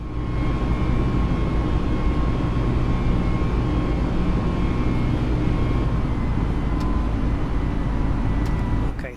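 Airbus A320neo engines in Microsoft Flight Simulator, throttled back for the climb, give a steady, loud jet roar with a constant whine layered on top, holding at one level from start to finish with no voices.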